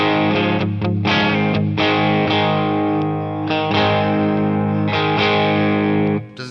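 Electric guitar driven through an MXR Distortion+ pedal into a Boss Katana amp, played as a loud, sustained run of strummed distorted chords with sharp attacks, ringing on steadily before cutting off at the end.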